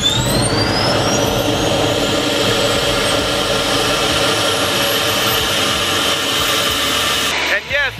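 A Challenger 300 jet's auxiliary power unit runs with a loud, steady jet-like whine and a high rising tone, droning close by, then briefly shifts and sputters near the end.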